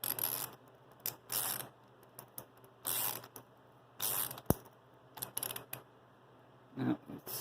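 Wood being split by a screw driven in, intermittent bursts of creaking and crackling with short gaps and one sharp snap, close and fairly quiet.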